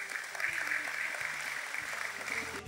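A crowd at a public event in honour of young national winners gives sustained applause, a soft, steady wash of clapping at moderate distance with some faint murmuring voices underneath.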